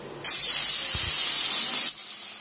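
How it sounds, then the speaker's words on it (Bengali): Prawns dropped into very hot oil set off a loud, steady hiss and sizzle that bursts in abruptly, holds for under two seconds, then drops back to a quieter simmer. "তেলটা খুব গরম, চিংড়ি মাছটা আমার আস্তে আস্তে ঢেলে দিতে হবে।"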